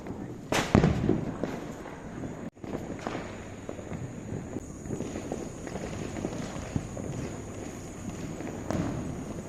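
A Diwali firework candle shoots off with a sharp burst near the start and a second sudden crack a little later, followed by ongoing crackling, rustling and movement close by.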